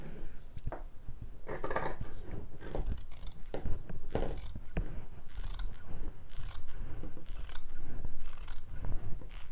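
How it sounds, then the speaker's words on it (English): Scissors cut through t-shirt fabric in a series of crisp snips and soft crunching slices, with short irregular pauses between cuts, close and fairly quiet, and no one speaking. "I'm going to start cutting."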